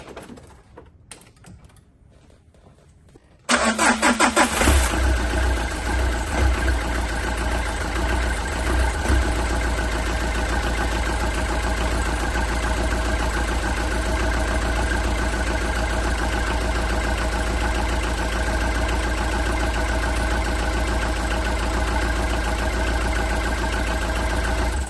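An old car engine jump-started with a Snap-on jump starter cranks and catches after a few quiet seconds, then settles into a steady, close mechanical idle with a continuous rattling drone that runs unchanged to the end.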